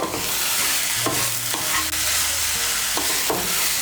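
Green chillies and shola kochu (taro) mixture are stirred together in a frying pan, with a steady close sizzle broken by several rhythmic scraping strokes of a spatula, loud and without any talking.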